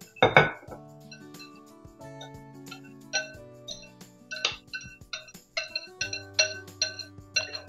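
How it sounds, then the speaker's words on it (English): A spoon scrapes and clinks against a dish while stirring a stuffing mixture for a cornbread souffle, giving irregular close taps and clinks in an uneven rhythm, with no talking. "You need to stir it all in."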